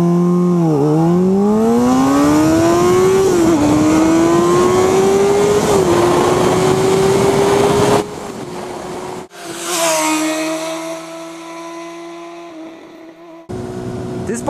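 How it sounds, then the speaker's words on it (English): A Kawasaki ZX-10R 1000cc supersport motorcycle accelerating hard on an Ohio country road, its engine loud and close as the pitch climbs steadily through several gear shifts, then a brief drop before a second rising run. "I'll show you in this video my 0 to 100 performance. 0 to 60 time trials"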